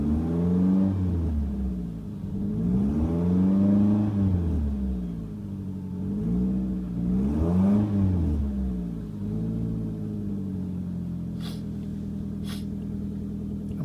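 A 2005 Nissan Altima 2.5 engine with about 101,000 miles runs on a test and is revved in several rising and falling sweeps before settling into a steady idle, close and loud, with no talking.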